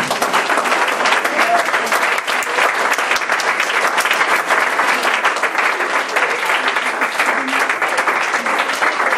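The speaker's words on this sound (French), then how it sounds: "Est-ce qu'on peut acclamer Jésus?" Continuous, loud applause from a church congregation, many hands clapping in a thick, even roar for several seconds, with scattered cheering voices underneath.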